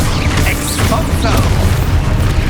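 An Exposo blasting spell erupts in Hogwarts Legacy amid a loud, rumbling wash of combat booms and crashes, with brief voices heard over the noise.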